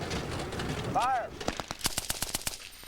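Rifle fire on a U.S. Army infantry basic training range at Fort Benning, Georgia: after a brief whistle-like tone, a rapid string of sharp gunshots cracks out in quick succession, loud and close, over a noisy background.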